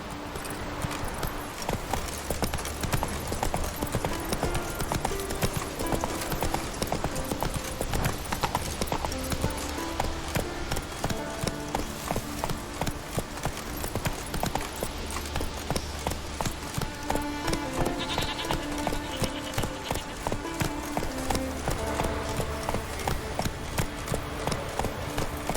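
Horse galloping in The Witcher 3 video game, a steady rapid clip-clop of hooves sustained throughout, loud and rhythmic under game ambience.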